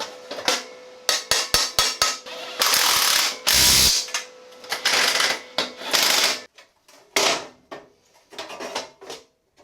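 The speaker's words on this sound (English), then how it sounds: "And let's bolt everything together now." A ratchet tightens bolts on a steel motorbike loading ramp with front and side plates, giving repeated bursts of rapid close clicking with a few single clacks between, and no one speaking.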